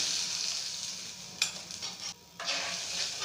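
Tamarind extract poured onto fried onions in a hot pan for a tamarind sambar, with steady sizzling and stirring, a brief splash midway and a short dip before the frying hiss returns.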